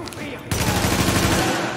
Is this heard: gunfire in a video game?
yes